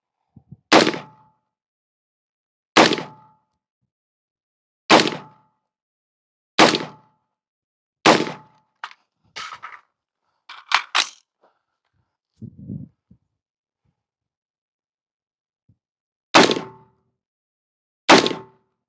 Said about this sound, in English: we will fire 5 rounds standing, reload, 5 rounds kneeling, reload, and then 5 rounds prone